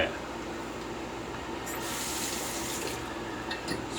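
Tap water running to rinse a double-edge razor blade, a steady close hiss of flowing water with faint splashing changes, and a voice briefly present.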